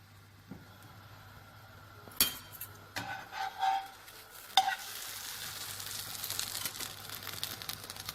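Savory French toast frying in a pan, a quiet low hum at first, then clattering knocks and scrapes as it's handled, followed by a rising, steady sizzle that fills the rest.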